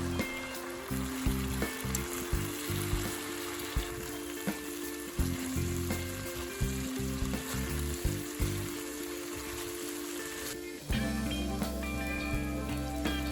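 Chinese noodles with meat braising in a covered pan over medium heat, a steady close bubbling and sizzling simmer with a constant hum, getting slightly louder and fuller toward the end.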